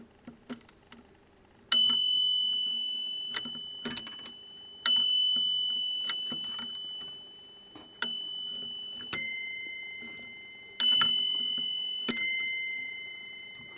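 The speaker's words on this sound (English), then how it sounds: "The bell." An old telephone's bell rings in a series of sharp metallic strikes, each ringing out and decaying, spaced about every second or two, later with two differing tones sounding together, close and clear without talk.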